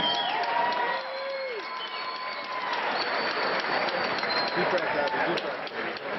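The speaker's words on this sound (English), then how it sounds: "have a nice round of applause for both fighters, please" Fight-night spectators at the Ally Card Pavilion in Tampa applaud both fighters after three rounds, sustained clapping and crowd noise with cheers and whistles, while a voice talks over it.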